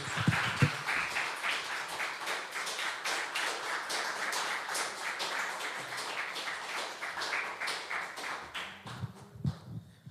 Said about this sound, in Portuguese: aplaude o nome do Senhor bem forte